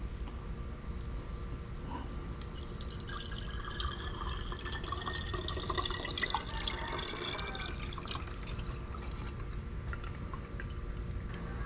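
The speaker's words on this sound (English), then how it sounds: "And pour all this old fluid out." Old brake fluid is poured out of the brake master cylinder of a 1975 Chevrolet Corvette C3. The trickle of liquid is faint and steady and lasts throughout, with no talking.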